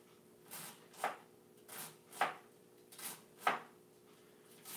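A knife chops cabbage for coleslaw on a board with soft, rhythmic strokes. There are about four faint cuts, each with a light scraping slide, against a quiet background hum.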